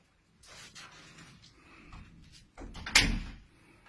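The back door of a cluttered rented room is opened: quiet rustling and shuffling, then a louder clunk and scraping rattle of the door about three seconds in, fairly close.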